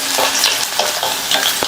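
Garlic sautéing in a pan for a Tamil lunch dish, a loud continuous sizzle with stirring scrapes and small crackles, close up and with no talking.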